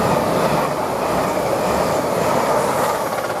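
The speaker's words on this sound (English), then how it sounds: "Now we've got a Lumo train, wasn't expecting it." Lumo passenger train running from Edinburgh to London King's Cross, passing through Grantham station with a loud, continuous roar of wheels and rail rumble.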